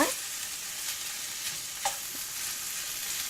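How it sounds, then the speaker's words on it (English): Chicken sizzles steadily in a pan while cooking for Malaysian chicken pilaf, a continuous close frying hiss with a few brief stir clicks and pops. "look at your chicken while it's cooking"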